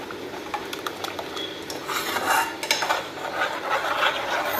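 A spoon stirs ground carrot paste into boiling milk for carrot kheer, making soft, irregular scraping and swishing against the pot over a low bubbling background, close and without speech.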